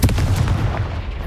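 A dense, rumbling blast fills the moment as the Confringo fire spell detonates in the Hogwarts Legacy video game, a loud, continuous low boom with no speech over it.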